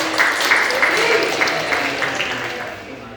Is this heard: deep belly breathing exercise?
no